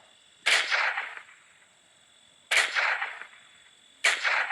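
Gunfire in a video game shootout: three sharp, loud shots spaced about two seconds apart, each with a short ringing tail over a faint steady background hum.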